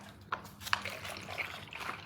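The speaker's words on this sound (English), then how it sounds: "you just buy whatever flavored drink you want, and then you pour this in" Flavored drink poured from a bought bottle into a plastic cup packed with ice at a street stall in Asia, a short trickling and splashing over a busy outdoor background with a few sharp clicks.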